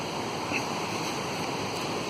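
Channel Creek, a wide, aggressive fast-flowing creek, rushes in a steady broadband roar close by, continuous and unbroken with no voices.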